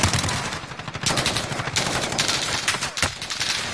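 Gunfire in the video game Call of Duty Warzone: dense, rapid automatic bursts, loud and close, rattling almost nonstop with short gaps.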